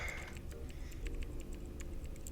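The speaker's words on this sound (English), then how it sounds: "Seafaring keyboard noises." Rapid, steady clicking of keys on a computer keyboard, fairly close and continuous, with light ticking strokes running throughout and no voices.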